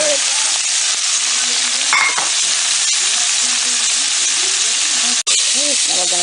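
Carrots sizzle in a frying pan with lotus root, a steady loud hiss of frying oil with a few sharp clatters as the pieces land and shift, while a voice talks over it.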